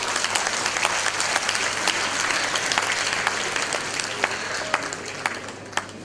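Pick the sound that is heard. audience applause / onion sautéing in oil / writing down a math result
audience applause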